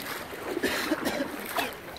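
A clear mountain stream in a highland town, near a waterfall, rushes and splashes close by, with brief surging bursts of water.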